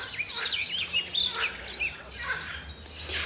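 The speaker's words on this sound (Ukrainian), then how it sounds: "пташки співають." Several birds sing and chirp in quick, overlapping high trills, fairly close, against a quiet outdoor background in a forest in Ukraine, near water.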